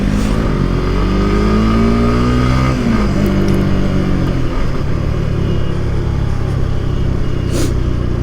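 A Honda CBR sports motorcycle engine revs loud and close, its pitch rising and then falling back over a steady heavy engine rumble, with no voices.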